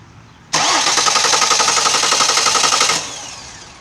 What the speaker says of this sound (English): So we know the starter works.